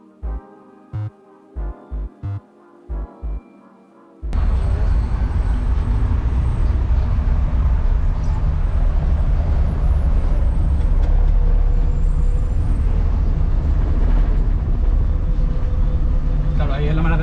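Trucks surround a vehicle on the road. A few short, separate bursts give way to a loud, sustained rush of traffic noise with a hissing edge.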